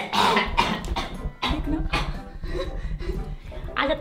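A woman coughs several times in quick bursts, close by, with people talking around the coughs.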